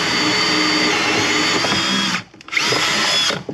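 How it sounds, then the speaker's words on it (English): A power drill bores into old, dry wood of a post and beam cabin with a dull bit, a loud steady whine that dips briefly near the end before resuming. "I think you need a new drill bit."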